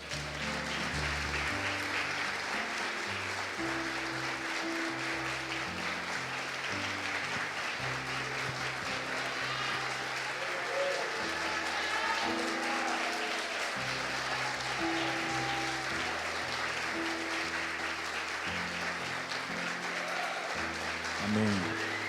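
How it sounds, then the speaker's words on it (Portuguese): A church congregation at a pastoral consecration service applauding: sustained clapping throughout, blended with a low instrumental or keyboard backing and some faint voices underneath. "Vamos aplaudir o Senhor?"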